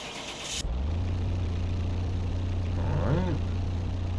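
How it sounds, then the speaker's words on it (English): A 1948 Jeep Willys engine starting in Car Mechanic Simulator 2021: a quick starter crank that catches into a steady, close, low idle, with a slight rising rev near the end. "let's start the car"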